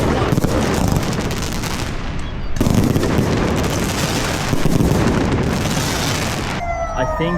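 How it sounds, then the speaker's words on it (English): Loud, continuous crackling bursts of fireworks go off in rapid succession in China around Chinese New Year, like a barrage of bangs and pops, ending abruptly. "I think some of the fireworks might have gone wrong."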